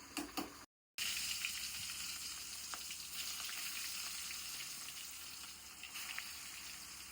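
Seela fish fries in hot oil in a pan, a continuous crackling sizzle heard close up, broken by one brief dropout near the start and dotted with small pops.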